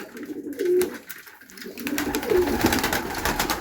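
Sick pigeons with trichomoniasis coo softly nearby, low throaty calls repeating over a faint background hum.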